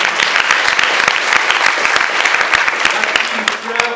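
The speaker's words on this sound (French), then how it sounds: "Je pense qu'on peut les applaudir bien fort." Loud, dense applause from an audience at an eloquence contest in Angers, sustained clapping filling the whole stretch without letting up, with a faint voice slipping in near the end.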